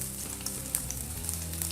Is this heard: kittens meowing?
no